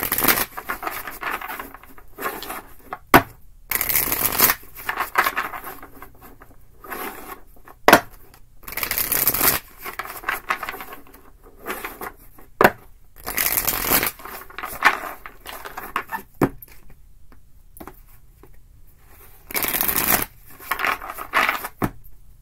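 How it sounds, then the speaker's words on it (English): Tarot cards shuffled by hand in repeated crisp riffling bursts between quieter rustling, close and fairly loud, with no talk. "It was a horrible shuffle."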